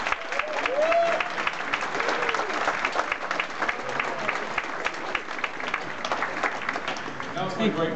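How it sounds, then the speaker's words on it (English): Audience applause at a TIFF 2012 film screening introduction for Dredd 3D, a dense, steady wash of clapping that holds for several seconds with some crowd noise and occasional voices underneath. "Let's give them a round of applause."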